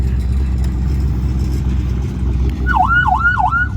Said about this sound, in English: Mike's got the Crown Vic ready to rock. Show me the siren